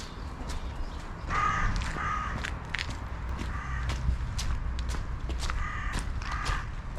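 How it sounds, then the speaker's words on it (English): Crow caws ring out outdoors in a UK garden, several loud harsh calls in repeated bursts from somewhere overhead, with soft footsteps and rustling underneath. "There's a bird up there somewhere."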